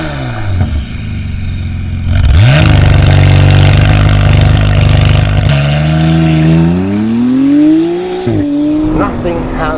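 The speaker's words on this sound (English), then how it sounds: "the Novitec exhaust transforms this car completely and utterly" A McLaren Artura's V6 with a Novitec exhaust revs hard, climbing through loud, rising engine notes that swoop up, hold and surge again close by, with brief crackles near the end.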